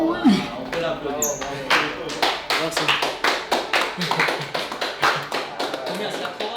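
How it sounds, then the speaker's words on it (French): A small group claps for a challenge finisher in a steady, rhythmic burst of close hand claps lasting several seconds, with voices mixed in under the applause. "On peut l'applaudir."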